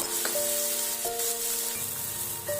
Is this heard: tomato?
yes